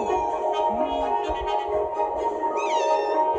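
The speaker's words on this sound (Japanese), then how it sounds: "猫ちゃんが来ましたね。" A cat meows clearly and close by in a short run of drawn-out calls, heard alone with no talk over them.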